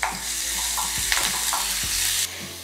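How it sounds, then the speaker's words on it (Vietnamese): Minced garlic frying in oil: steady sizzle with a bright hiss, punctuated by a few soft clinks of a utensil against the pan, close and continuous with no talking. "Mình sẽ cho tỏi băm nhuyễn vào"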